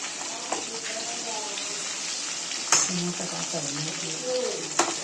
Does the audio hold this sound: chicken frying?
yes